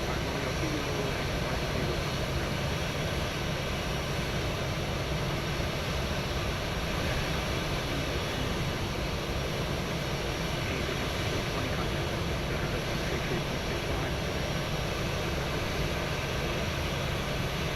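An airliner, a Boeing 737-800, taking off in Microsoft Flight Simulator 2024 from Memphis, steady loud roaring jet engine noise sustained throughout with no change in level, with no talk.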